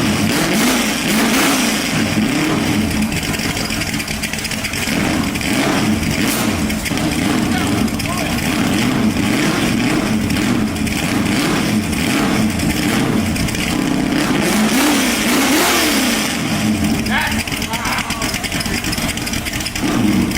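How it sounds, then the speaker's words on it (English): A 331 stroker V8 running with no mufflers and boom tubes, a loud sustained engine rumble that swells and revs throughout, with voices talking over it. "I want to hear the 331 stroker through no mufflers"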